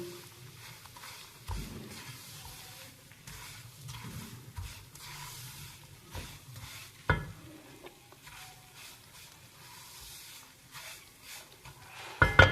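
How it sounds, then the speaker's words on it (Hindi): Semolina is stirred and roasted in ghee over a low flame, with a soft, low sizzle and intermittent scraping strokes of the spoon, plus a few louder knocks near the end. "अब सूजी को भी ना हल्की आंच पे ना, मुनासिब सी आंच पे हल्का सा लाइट ब्राउन करेंगे।"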